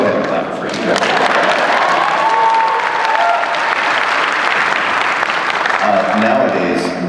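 An audience at a C2E2 convention panel with the Star Wars Rebels cast breaks into loud, sustained clapping, a dense near crowd sound with faint voices and a few thumps underneath.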